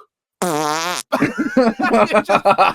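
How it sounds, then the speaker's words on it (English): A loud, buzzing fart noise stands in for a dragon shout in a modded video game, one sustained blast cut off abruptly, followed immediately by animated talking and laughter. "She shouts, and it's just a fart."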